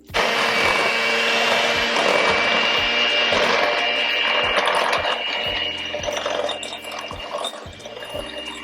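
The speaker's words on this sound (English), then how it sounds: "let me grab the mixer and I'm going to mix this up" Electric mixer whirring steadily through chocolate chip cookie dough, loud and close at first, with rhythmic knocking as the beaters hit the bowl, then slightly easing toward the end.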